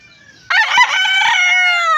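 A rooster, a breeding gamefowl, crows loudly and close by, one long sustained call after a brief quiet moment.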